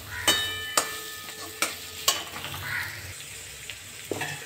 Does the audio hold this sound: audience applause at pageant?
no